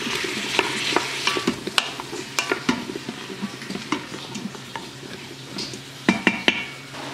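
Stew meat seasoned with salt and pepper is stirred in the pot of an Instant Pot, with a steady low sizzle under frequent irregular clicks and scrapes of a utensil against the metal pot.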